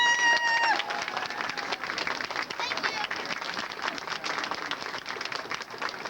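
A crowd applauds steadily, dense continuous clapping that stays loud throughout, following a brief tonal sound at the very start.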